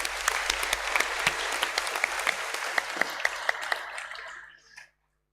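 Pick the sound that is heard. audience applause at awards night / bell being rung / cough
audience applause at awards night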